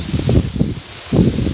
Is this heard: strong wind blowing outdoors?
yes